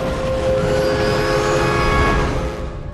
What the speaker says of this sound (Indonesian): setelah sosok ini muncul juga terdengar suara kereta